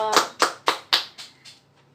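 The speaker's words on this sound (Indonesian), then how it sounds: "Tepuk tangan dulu dong untuk Ridho" Classroom applause for a student named Ridho: a small group claps in about six distinct, evenly spaced bursts that quickly thin out and fade.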